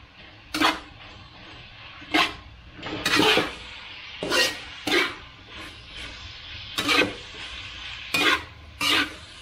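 Smoked fish and tofu toppings for palabok are mixed in a pan, giving a steady series of sharp scraping and clattering strokes roughly every second, close and fairly loud against a faint sizzling background.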